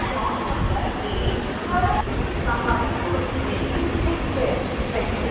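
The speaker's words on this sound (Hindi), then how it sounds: "सस्ता, सोभर और जल्दी रास्ता तय करने वाली मेमू ट्रेन।" A Haridwar–Una Himachal MEMU express runs along the track with a steady, loud rolling rumble and hiss, heard from on board, while a voice speaks over it.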